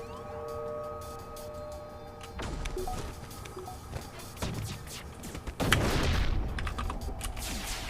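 Missile and weapon fire striking enemy shields in the space combat game FTL, a run of sharp blasts and crackling impacts over synth tones and alarm-like beeps, building to a louder burst near the end.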